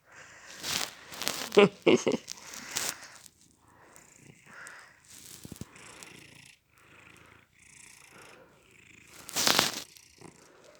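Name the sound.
cat purring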